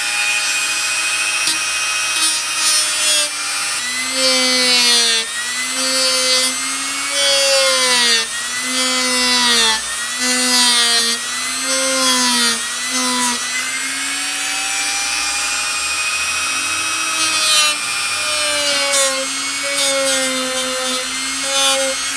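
A Dremel rotary tool carves into the wood of a bass guitar body, its high whine rising and falling in repeated passes as the bit bites and eases off, close and steady with no talk.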